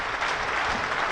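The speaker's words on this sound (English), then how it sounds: "You can hear the applause for that coming in from the Hampshire faithful" Hampshire cricket fans applauding a batsman reaching fifty in a one-day cup quarter final, a steady wash of clapping from the crowd that holds evenly throughout.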